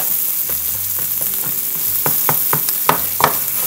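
Onions sautéing in a tablespoon of butter in a nonstick skillet, a steady close sizzle with scattered sharper pops and a few stirring scrapes toward the end.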